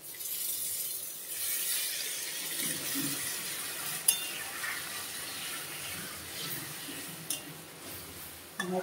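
Water is poured into a dish in the kitchen while cooking ilish fish bhapa, a steady close splashing trickle with a few small clinks of the vessel.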